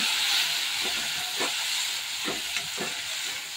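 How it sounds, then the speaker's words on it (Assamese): Garlic, chilli and tomato fry in a pan with a constant bright sizzle, broken by several soft stirring scrapes at an uneven pace, close and fairly loud. "এতিয়া আমি ৰচুন আৰু ইয়াত জলকীয়া ফ্ৰাই কৰি আছোঁ।"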